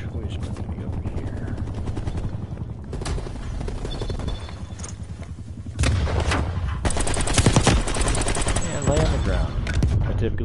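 AK-47 rifle fire in Call of Duty Black Ops Cold War, close and loud, with scattered shots early and dense, sustained bursts through the second half over a steady game backdrop.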